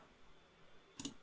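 A single crisp computer mouse click sounds close and faint near the end of an otherwise quiet moment.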